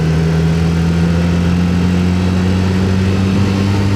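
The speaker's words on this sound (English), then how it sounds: "the working hypothesis at the moment is that one of the cylinders is not firing properly" A Suzuki car engine idles steadily with a misfiring cylinder and unburnt fuel smell, giving a loud, close, continuous low drone with a slightly uneven pulse and no voices.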